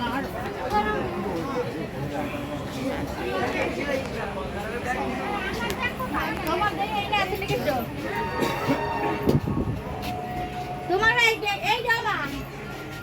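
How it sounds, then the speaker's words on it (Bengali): Amrit Bharat Express leaving Howrah station rumbles and rattles steadily from inside a carriage, nearby passengers chattering over it and a few clanks and bumps rising near the end. "ট্রেন ছেড়ে দিয়েছে।"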